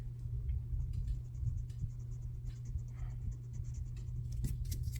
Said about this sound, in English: I'm going to try with my sand eraser to see if I can just erase that.